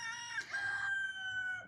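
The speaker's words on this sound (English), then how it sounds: "that's my rooster" A homestead rooster gives one loud, drawn-out crow close by, its long call trailing off over a quiet background.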